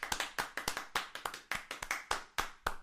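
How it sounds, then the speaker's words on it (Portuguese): Brief applause greeting a female guest on a faith talk show: sharp, distinct hand claps in an irregular burst, close and fairly loud, with no voices over them. "Palmas para ela, palmas."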